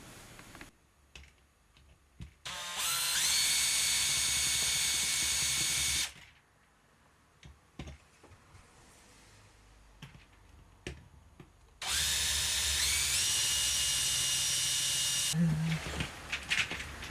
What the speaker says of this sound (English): I'm going to drill out those rivets because that's the only way of separating that assembly.